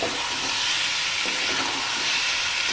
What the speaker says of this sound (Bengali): এবার আমি সেদ্ধ করা মাটনটা এর মধ্যে আমি দিয়ে দিচ্ছি ভালো করে আমি কষিয়ে নেব এটা